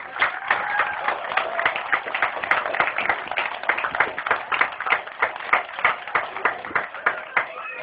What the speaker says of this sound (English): A big round of applause, first of all, for the heroes who work every day to protect us